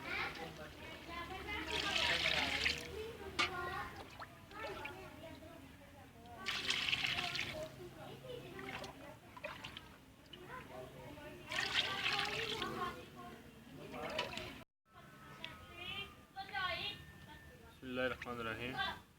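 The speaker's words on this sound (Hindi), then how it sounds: "अब हम इसमें डाल देंगे पानी चावलों के लिए।" Water is poured into a large pot for chicken biryani rice, about four kilos over two kilos of rice: repeated gushing, splashing pours, close by, with a person talking between and over them.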